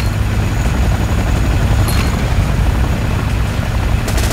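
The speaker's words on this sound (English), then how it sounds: "you'll encounter less Apaches along the route, as it will take them longer to arrive" Apache attack helicopters in the video game Command & Conquer Renegade give a steady, loud rotor drone with a deep low-end rumble that holds evenly throughout, with no talk over it.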